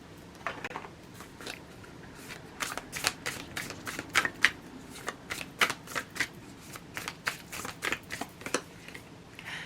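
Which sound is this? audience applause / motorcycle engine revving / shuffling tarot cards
shuffling tarot cards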